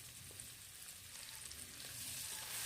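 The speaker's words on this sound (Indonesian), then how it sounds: "Di wajan yang sama saya akan menumis bumbunya ya." Shallots and garlic sauté in a modest amount of oil in a wok, giving a steady close sizzle and frying hiss that swells slightly toward the end, with no talking.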